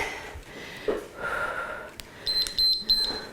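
Workout timer giving a few short, high electronic beeps in quick succession near the end, over heavy breathing and rustling.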